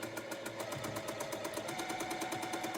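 A sewing machine stitches along the opposite side of a scrappy quilt block, a continuous close mechanical whir with fast, even needle ticks throughout, no voices.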